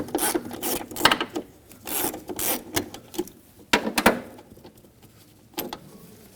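An 11mm wrench works a stud loose on a 1998-2011 Ford Ranger with the 4.0L V6, giving close, irregular scraping and ratcheting clicks in short bursts with pauses between.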